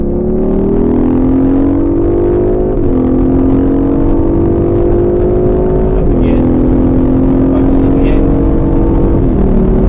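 An Aston Martin Vantage accelerates hard around Silverstone circuit, its engine droning loudly and continuously up through the revs with brief dips at gear changes, heard from inside the car under a steady low rumble.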